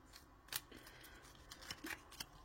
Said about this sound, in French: on va prendre une carte au pif. Je mélange